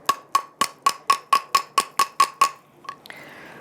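A hammer taps the edge of a pewter bangle about ten times in a steady, even rhythm, each strike a bright metallic ping with a ringing tone, close and clear, followed by a brief scrape.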